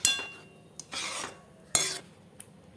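Spoon scraping and stirring brinjal kadayal in a pot, a few separate scrapes with brief clinks, close up and quiet, with no voices.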